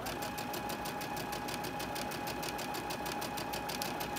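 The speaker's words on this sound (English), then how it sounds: "Let me increase my speed a little bit there." A sewing machine runs steadily at speed while stitching a fabric tote bag, its fast even whir and needle clatter close and continuous with no talking.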